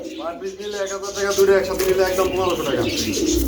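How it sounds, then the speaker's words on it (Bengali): Male Beauty pigeons coo continuously and fairly loudly close by, a rolling, throaty calling repeated without pause against a busy background. "ভাই বিউটি ডাকাডাকি করতেছে"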